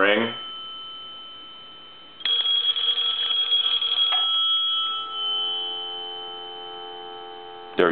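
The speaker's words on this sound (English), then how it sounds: "I'm gonna give it one more ring." A repaired payphone's bell rings in one loud sustained burst of about two seconds, then a steady hum-like tone lingers, with clicks at the start and end.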